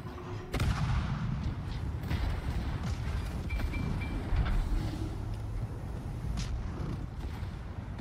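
Naval guns firing armour-piercing shells in the World of Warships naval battle game, heavy booming shots over a dense, continuous rumble of battle noise, loud and close, without speech.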